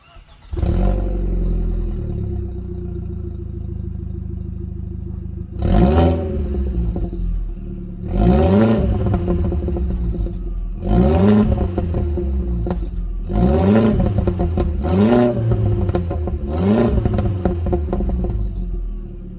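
A loud, raw 1.8-litre turbo engine in a 2004 Audi A4 with its muffler removed idles roughly, then revs hard about six times, each rev surging and falling back to a rumbling idle.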